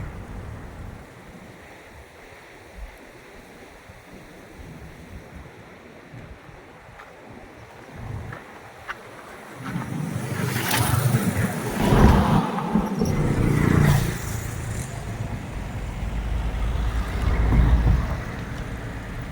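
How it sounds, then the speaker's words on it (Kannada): Strong flow of the Kaveri river beneath the Sathyagala bridge, a broad rushing wash of water that builds and swells in the second half, loud and steady with gusty surges, no talking. "ನೋಡಿ ಎಷ್ಟು ಜೋರಾಗಿ ಹರಿತಾ ಇದೆ ನದಿ"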